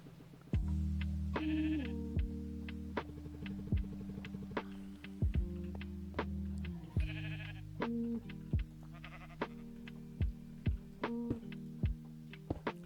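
Sheep in Minecraft bleat repeatedly at irregular intervals, short nasal calls rising over a steady hum of calm background game music.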